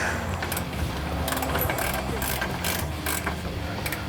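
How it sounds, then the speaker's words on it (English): A wrench ratchets as it tightens the bottom shock bolt on a 1963 Corvette split-window coupe, giving rapid, close clicking bursts over a steady mechanical background. "we're going to go ahead and tighten this bottom bolt for the shock"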